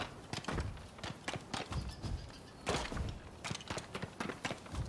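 Rapid, rhythmic hoofbeats clatter steadily like a horse galloping in the video game Rise of the Ronin, thudding in quick repeated clusters with a rough, game-like quality and no talking.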